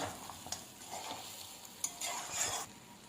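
Chicken frying in a pan while a spoon stirs it, a steady close sizzle with soft scraping strokes surging now and then, no voices.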